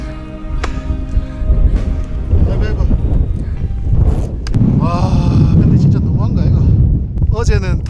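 Strong gusting wind buffets the microphone near the summit of Hallasan mountain on Jeju, a loud continuous roar rising and falling as people talk over it.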